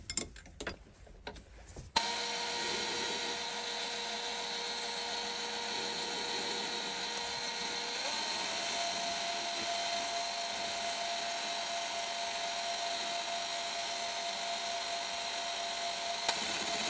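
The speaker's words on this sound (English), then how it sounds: "let's get to the lathe and turn down some nails" A lathe turns stainless steel stock down into small nails, giving a steady high whine with a sustained tone that shifts pitch partway through, after a few clunks of setup at the start.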